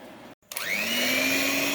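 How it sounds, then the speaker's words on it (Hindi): An electric beater starts up after a brief silent gap and settles into a steady, loud motor whine as it whips raw egg white for a homemade face mask. "हम ये जो वाइट पार्ट है इसको हम बीट कर लेंगे।"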